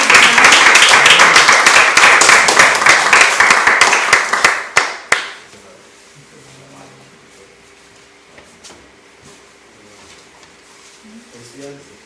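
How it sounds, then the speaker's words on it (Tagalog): A church congregation claps loudly in praise of God, dense rapid clapping for about five seconds before it stops abruptly, leaving quiet room tone with faint voices. "Bigyan nga po natin ng masigabong palakpak ang Diyos sa buhay."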